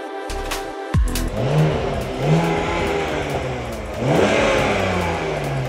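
A BMW Z sports car engine revs repeatedly close by, a sharp start followed by rising and falling throttle sweeps over a steady idle, with no talking.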